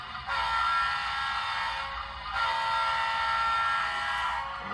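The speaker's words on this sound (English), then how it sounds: "let's hear the horn." A model train horn sounds in two long, steady blasts, loud and close, with a short gap between them and no talking over it.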